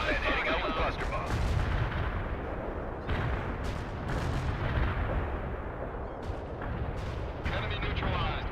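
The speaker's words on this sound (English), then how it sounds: "Cluster bomb hit with full effect." Cluster bomb explosions in the World in Conflict video game, a continuous roar of blasts and rumbling impacts with sharper bursts standing out over several seconds of heavy battle noise.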